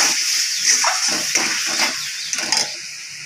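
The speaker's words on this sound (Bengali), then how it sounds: "আর একটু কষিয়ে নেব" Spice paste for a chicken curry fries in a pan and is stirred, a steady close sizzle with scraping strokes of the spoon repeating every half second or so.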